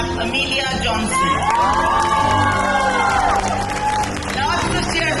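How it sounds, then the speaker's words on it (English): A crowd cheers and whoops loudly at an Onam awards ceremony, with shouting and some clapping filling the whole stretch close and sustained. "Lots of cheer for Amelia"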